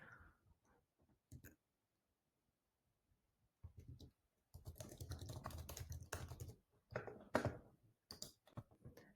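Keys clatter on a computer keyboard as a form name is typed, with a few brief clicks at first, then a quick dense burst of close, quiet typing after a pause.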